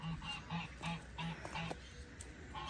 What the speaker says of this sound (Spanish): Ahí están mis gallinas, los gansos.